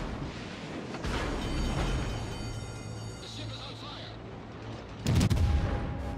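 Naval gunfire from the battleship Britannia firing high-explosive shells in a video game, heard as two heavy booming salvos, one near the start and a sharper, louder one near the end, over steady battle rumble with a voice talking throughout.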